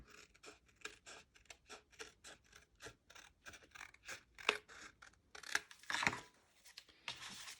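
Scissors trimming a small strip of excess blue paper on a handmade Christmas card, heard as a quiet, close series of crisp snips with some paper rustling and scraping toward the end.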